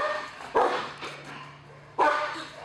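A police K-9 dog lets out two loud, sharp barks close by, about a second and a half apart, with quieter panting and movement between them.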